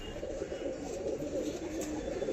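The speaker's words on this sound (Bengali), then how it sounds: "সো গাইস দেখুন একটা জিরা মেল, মানে কোয়ালিটির পায়রা একটা, খুব কোয়ালিটির পায়রা" A jira male pigeon, a quality bird, gives soft, low cooing close by, a steady murmuring coo that runs throughout with no other voices.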